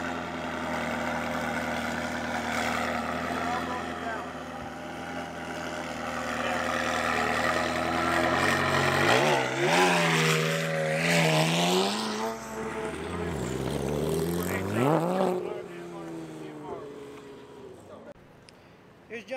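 Exotic car at an exotic car rally doing donuts on a helipad, engine revving up and down in rising and falling sweeps with loud sustained roar, people talking over it.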